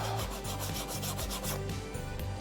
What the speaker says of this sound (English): Just a quick deburr